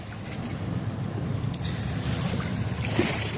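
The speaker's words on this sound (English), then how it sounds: "As the waves crash on the rocks" Waves wash continuously against rocks on a lake shore in a steady broadband rush, with wind buffeting the microphone and no talking.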